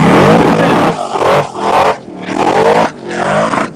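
A loud race car engine revs hard, bouncing repeatedly off the rev limiter in three surging bursts with brief dips between them, close and dominant.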